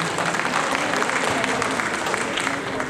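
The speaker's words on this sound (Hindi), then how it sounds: "आप जोरदार तालियों के साथ उनका" Audience applause at a Balidan Diwas ceremony honouring soldiers' sacrifice, a steady, dense wash of many hands clapping that fills the whole stretch without pause.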